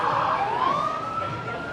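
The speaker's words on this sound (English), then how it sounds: "Very clean police car." A police car siren wails in a single rising and sustained tone, loud and near, heard alone without talk.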